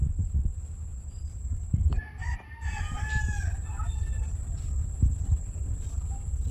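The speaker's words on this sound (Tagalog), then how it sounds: "Ayun, may mga ibon po." A rooster crows once at a distance over a steady outdoor hum, with faint bird calls and low background noise around it, during air-pistol shooting outdoors.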